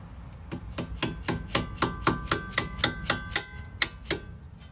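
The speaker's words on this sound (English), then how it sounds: "And then just give it a nice little tap." About a dozen sharp, evenly spaced metallic hammer taps ring out close by as a clip is driven into place on a Mazda CX-5 front wheel-bearing assembly, with no talk.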